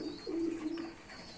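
Pigeons coo in a low, soft, throaty call that swells and fades over a second, fairly close, with no other sounds.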